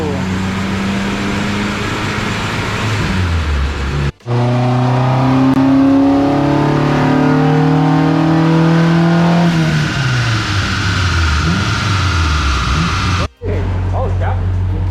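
A tuned, gutted Honda Civic with a K24 engine swap roars on a dyno, revving hard in long rising pulls that climb and then fall away, loud and close, with two abrupt cuts in the sound.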